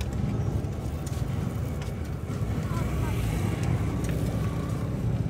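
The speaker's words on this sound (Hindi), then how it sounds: "जब बाइक जंपा में जा रही है तो बाइक की बहुत बुरी सी आवाज़ है" A Honda CD70 motorcycle engine with faults runs loud and rough, a dense, steady rumbling drone with rattling underneath that continues without pause.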